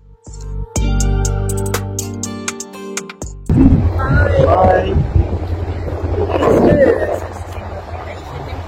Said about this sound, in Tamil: அப்படியே மெல்ல மெல்ல யாட் வந்து மூவ் ஆகுது.